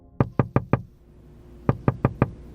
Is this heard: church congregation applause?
no